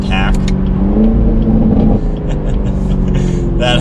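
A 2021 Chevrolet Camaro 2SS V8 engine and exhaust rev up and settle, a loud, close, rumbling surge rising and falling over a few seconds, with cabin whir and a voice speaking over it.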